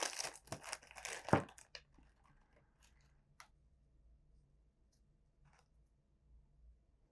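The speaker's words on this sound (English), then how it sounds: "I love that Oreo has this very easy open packaging." An Oreo cookie packet is torn open with loud, close crinkling and ripping plastic for a second or two, followed by a few faint rustles and clicks in near quiet.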